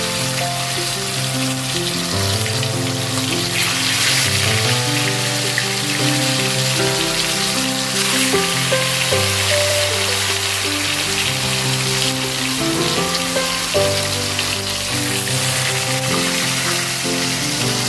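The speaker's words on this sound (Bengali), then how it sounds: "আমার তেল গরম হয়ে গেছে, আমি এগুলো একটা একটা করে ভেজে নেব।" Chicken pieces frying in hot oil, a steady, dense sizzle under background music, continuous and close throughout.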